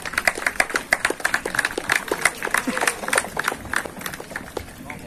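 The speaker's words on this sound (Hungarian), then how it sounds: "Gratulálunk a szabadidős fogatók győztes és helyezett hajtóinak, kérek egy tapsot részükre." Spectators at an outdoor horse-carriage driving day clap for the winning and placed leisure carriage drivers, a lively stream of many sharp, overlapping claps, moderately loud, under faint background voices throughout.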